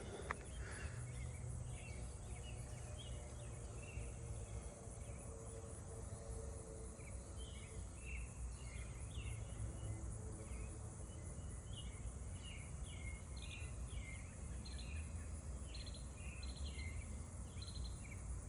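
A steady chorus of crickets fills a quiet neighbourhood near a forested area at night, with faint chirping bird calls flickering above it, soft and distant throughout.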